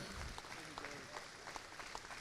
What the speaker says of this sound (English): Please, standing round of applause.